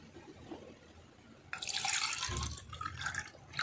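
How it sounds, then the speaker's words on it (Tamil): Coconut water splashes and pours steadily into a blender, a close, bright wet rush that begins abruptly partway through after a quieter start. "இளநி தண்ணி ஊற்றி அரைக்கலாம்"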